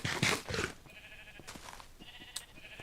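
Sheep bleating in a video game, a few short bleats early and mid-clip standing out over quiet game ambience with faint chiming tones.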